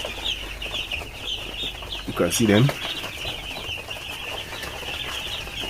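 Young broiler chickens fill a shed with constant high-pitched cheeping, a brief louder flurry of clucking and wing flapping rising in the middle, while someone speaks briefly over the flock.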